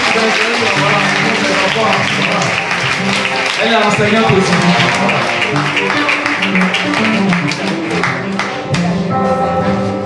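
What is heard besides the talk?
audience applause at school ceremony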